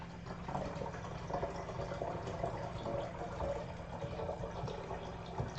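Water poured while making coffee, a steady low gurgle and trickle of liquid running into a vessel, faint and continuous with small bubbling flutters and no voices.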